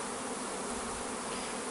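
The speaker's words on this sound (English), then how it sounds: "one queen invaded the other queen's hive, and the queens are fighting right now for the territory" Bees buzz steadily around a beehive in Jamaica where two queens are fighting over territory, a dense, continuous close-up hum with no pauses.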